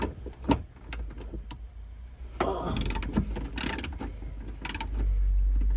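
A ratchet wrench clicks in quick bursts while undoing a 13mm bolt on a strut bar of an E46 M3, close and fairly quiet, with metallic taps in between and a low hum near the end.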